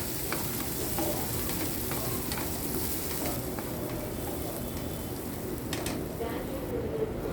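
Chopped onion sizzles and crackles in hot oil in a pan while making cabbage poriyal, with occasional stirring scrapes throughout.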